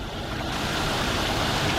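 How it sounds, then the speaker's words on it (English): A waterfall pours into an outdoor pool beside an office building, a dense, steady rushing wash of falling water heard close and continuous, with no talk over it. "Got a waterfall and a pool. And then it comes down to another pool. Sounds very relaxing."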